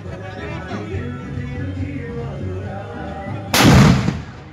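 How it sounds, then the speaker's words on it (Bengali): Firecracker exploding outdoors: a single loud, close boom with a noisy burst that rings for about half a second, following several seconds of low rumbling background. "একটা হলো বাজি ফুটে গেল"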